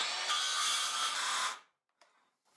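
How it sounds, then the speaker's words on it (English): A cordless circular saw bogging down while cutting 2-inch-thick walnut, a loud steady high whine for about a second and a half before it stops, followed by a couple of faint brief spin-ups. "the 2-inch walnut was actually too much for my cordless circular saw"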